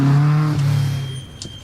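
A Caterham 7 racing up the Harewood hillclimb gives a loud, close engine note that holds steady, then drops and fades as the car pulls away.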